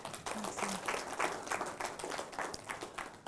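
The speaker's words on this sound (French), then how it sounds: "On va donc encore une fois lui dire merci avec des applaudissements." A studio audience on a television programme applauds a guest, a steady patter of many hands clapping at moderate level, fairly even throughout with no voices over it.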